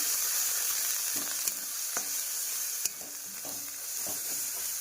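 Spice paste with coriander powder and Kashmiri chili frying in a pan, giving a steady close hiss with a few sharp clicks and scrapes of stirring, no voices.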